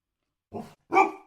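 A dog barks twice near the microphone, two short separate woofs with a brief pause between them and no other sound around them.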